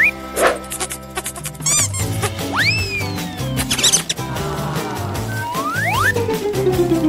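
A cartoon mouse squeaks in a series of quick, high, rising and falling chirps, mixed with busy cartoon sound effects and background music.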